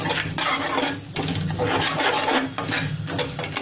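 Coarsely ground peanuts are stirred steadily while dry-roasting in a pan, giving a continuous gritty scraping and rustling with a rhythmic rasp as the spoon sweeps through, close and alone.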